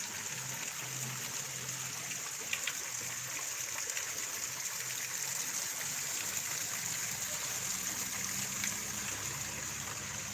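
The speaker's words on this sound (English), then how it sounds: "This is the newest install here, which they made into a water fountain with old stuff that was left behind from the previous building." A water fountain built from leftover salvaged materials of an old building trickles and splashes steadily, a soft continuous wash of falling water with a faint low hum beneath and no voices.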